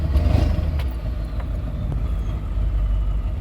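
A Ford 7.3 Power Stroke diesel in a truck rumbles steadily and loudly up close while driving, a low continuous engine drone with a few faint clicks over the top and no talking.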